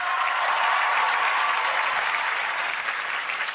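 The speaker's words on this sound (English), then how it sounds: "Let's hear it for Sophie and Gino" A studio audience applauds dancers on a televised dance competition show, a dense, steady wash of clapping with some cheering throughout.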